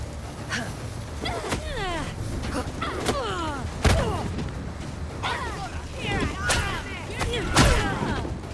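Heavy artillery fire in the video game Unknown 9: Awakening: several sharp, booming blasts land at irregular intervals over a busy combat bed, with voices and chattering cries throughout.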